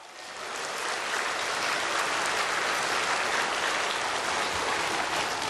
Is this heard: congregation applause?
yes